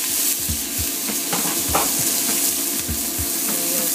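Onion with cumin hits hot oil in a pan for chicken tikka masala, a dense close sizzle with spatula knocks and scrapes every half second or so, no voices.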